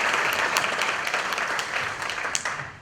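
A museum audience at a panel discussion gives a round of applause, a dense wash of many hands clapping that fades a little toward the end.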